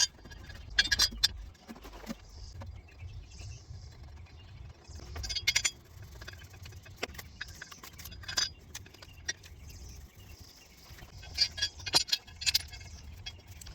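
Bolts hand-threaded into a transfer case support, with small metallic clinks, taps and jingling of hardware and tools close by over a low rumbling background, scattered and irregular with no talking.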